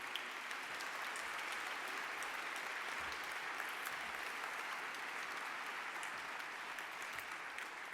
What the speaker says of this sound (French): je voudrais qu'on l'applaudisse